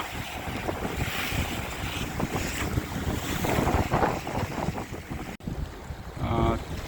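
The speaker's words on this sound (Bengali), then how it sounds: "এই যে দেখুন, কিছু মানুষ স্পিড বোটে যাচ্ছে, দ্রুত যাওয়া যায়" A speedboat engine drones over choppy water on the crossing to Hatiya Island, Noakhali, Bangladesh, with heavy wind buffeting the microphone throughout and a brief dropout near the end.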